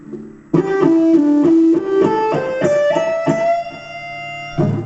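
An electric guitar plays a bluesy solo phrase, with bent and sustained notes moving up the neck, clear and close with no talking.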